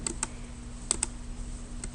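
Keys tapped on a calculator while entering a division, several sharp, close clicks in small clusters over a quiet background.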